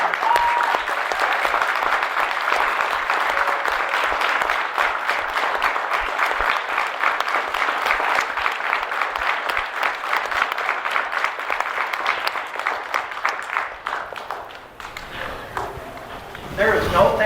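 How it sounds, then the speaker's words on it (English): Audience applause for military veterans at a school program, a dense sustained clapping that fills most of the stretch before thinning and fading near the end, with voices faintly underneath. "Join with me a round of applause for our veterans."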